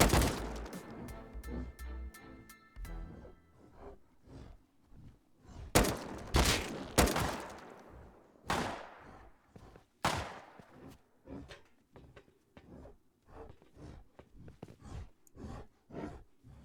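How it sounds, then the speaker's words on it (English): Gunfire from players shooting zombies in the survival game Rust: irregular bursts of cracking shots, some heavy and close, others lighter and more distant, scattered over a steady ambient background. "Sounds like somebody's over here shooting zombies."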